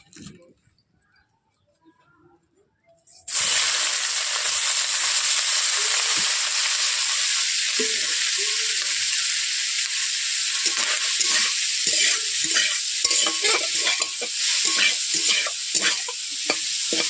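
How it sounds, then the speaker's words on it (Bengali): Apple snails frying in hot oil in a kadai wok for a village-style snail curry, a loud, steady close-up sizzle that bursts in after a few seconds of near quiet and holds without a break. "বন্ধুরা দেখতেই পাচ্ছেন গুড়গুলোকে এইভাবে আমি ভেজে নিচ্ছি"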